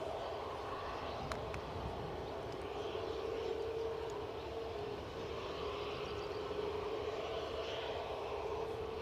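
A Delta Boeing 767-300 airliner turns steadily overhead, bound for New York JFK, giving a continuous, fairly distant jet engine roar with a steady tone and broadband rumble throughout.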